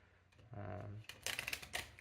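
Cards from the explore pile of the Maze of the Minotaur board game are shuffled in brief, quiet bursts of rapid papery clicking, close by, just after a short voice.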